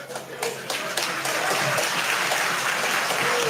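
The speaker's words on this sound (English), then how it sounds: "Why are you clapping?" Steady applause from members in a parliamentary chamber fills the space, with scattered claps building and continuing throughout, and faint voices underneath.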